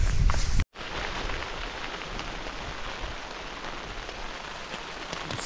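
Steady rain patters on a tent in windy weather during wild camping on a bike tour in Sweden, a broad continuous hiss after a brief cut near the start, heard from inside the shelter.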